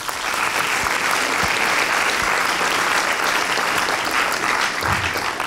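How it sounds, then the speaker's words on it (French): An audience at a public talk breaks into sustained, full-room applause to welcome a speaker, a thick, even wash of clapping that stays loud throughout. "Donc je vous demande de saluer et d'applaudir Jean-François Morin."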